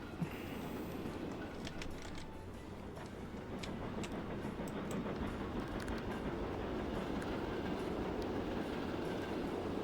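Trains in the Transport Fever 2 railway simulation roll along the rails with a steady rumble and faint rhythmic clickety-clack, constant and moderately distant for about ten seconds, no voices over it.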